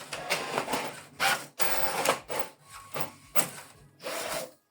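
A Brother MFC-J5740DW inkjet printer runs a print job, giving a series of close, moderately quiet mechanical passes, rubbing and whirring bursts separated by short pauses, with no speech.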